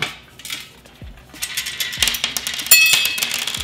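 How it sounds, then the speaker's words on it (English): Loose metal screws shaken out of a bag rattle and clink close by in a quick, uneven series, the jingling growing denser and louder toward the end, with no voices. "let me see if I can get these screws out"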